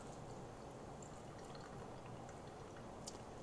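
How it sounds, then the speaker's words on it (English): Fat from a pork bratwurst meatloaf is poured off into a jar, making a faint, steady liquid trickle with a few small splashes near the end. "I'm going to pour the grease off because there's going to be a lot of it"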